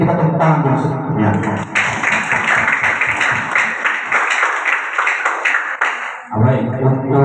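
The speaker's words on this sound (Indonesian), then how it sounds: "kita tepuk tangan dulu sebelumnya" People at a community meeting break into applause, a dense, loud burst of clapping that swells and holds for several seconds before cutting off, with a voice heard briefly near the start and again at the end.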